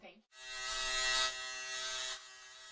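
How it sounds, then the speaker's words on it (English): Electric shaver buzzing steadily for about two seconds after a brief sound at the start, close and clear, then its pitch shifts slightly as it keeps running. "Shaving in general is best done with an electric shaver."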